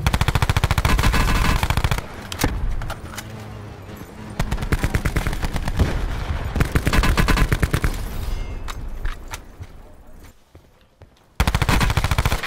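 Rapid automatic gunfire from a shooting game, loud bursts of close shots that pause briefly and resume, with no talking over them.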